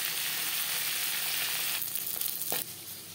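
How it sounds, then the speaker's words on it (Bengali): Fish sizzles and crackles steadily in hot oil, a close, hissing fry with a few brief clicks and pops toward the end. "পরের মাছ একইভাবে ভেজে নেব।"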